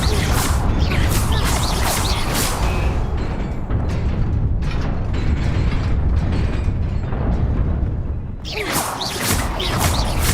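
Incendio and Levioso spells cast in the Hogwarts Legacy video game: loud, close fiery whooshes and bursts with crackling, mechanical rattles, and a second blast of bright crackle near the end.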